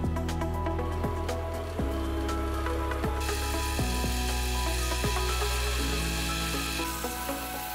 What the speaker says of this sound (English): It was then machined down on the lathe to the exact size.